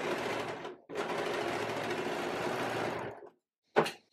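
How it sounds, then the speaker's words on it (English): A sewing machine stitches elastic onto a small Barbie-style doll dress, running in a long steady whirring burst, pausing briefly, resuming, then stopping before a short final spurt. "I'm just going to trim that elastic off and then sew the rest of the way to the end"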